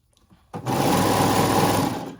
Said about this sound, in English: Rarely when I'm serging like this.